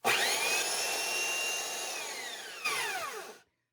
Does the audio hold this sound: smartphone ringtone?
no